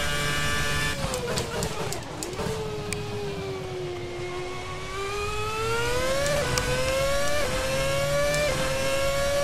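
A formula race car at the Hungaroring in Assetto Corsa howls through gear changes, its engine pitch dipping on downshifts and then climbing steadily as it accelerates, loud and continuous throughout.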